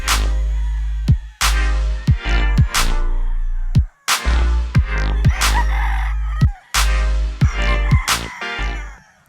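Roosters, including young White Kelso gamefowl, crow repeatedly on a farm, loud and near, overlapping calls one after another with sharp clucks between, no talk.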